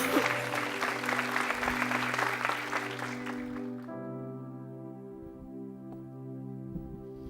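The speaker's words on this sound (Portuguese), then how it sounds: "Dê o melhor aplauso, você pode dar ao Deus." A church congregation claps at a service, with dense applause over sustained music for about four seconds before the clapping stops and the music carries on alone.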